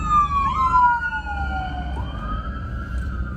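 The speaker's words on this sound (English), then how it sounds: "Got a little ambulance here, so pulled it aside." Ambulance siren wailing on the road, its rising and falling tone sliding downward as it passes close by, loud over steady traffic rumble.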